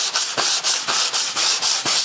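A car body panel is sanded by hand with 80-grit paper on a hard pad: quick, rhythmic rasping strokes, about eight in two seconds, close and loud with no voices.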